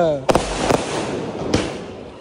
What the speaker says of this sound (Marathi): आता आम्ही इथं फटाके फोडला रॉकेट